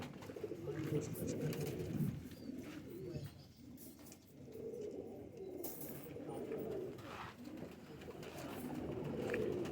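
Pakistani patti-breed pigeons coo in low, repeated rounds, fairly close and steady, with other birds calling faintly and some background voices now and then.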